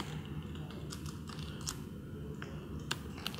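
Rapid, light clicking of keys on a computer keyboard, a steady run of soft taps with a few sharper strikes, fairly quiet and close with no talking.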